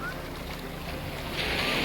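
Sea waves washing in at low tide on Devbag beach in Malvan, Sindhudurg, a steady broad roar of surf with wind noise, swelling slightly louder toward the end, with no talking.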